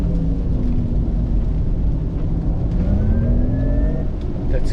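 A Porsche Taycan 4S accelerates hard under launch control, giving a loud, steady drive whine that rises in pitch over heavy road and wind rumble inside the cabin.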